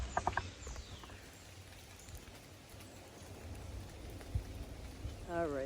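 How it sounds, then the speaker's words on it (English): Steady light rain patters on a tent during a wet woodland wild camp, a soft constant hiss with a few closer drips and taps, and a voice briefly at the end. "it's still raining."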